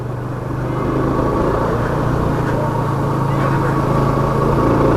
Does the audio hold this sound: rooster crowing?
no